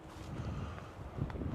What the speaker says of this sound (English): And wow, it's windy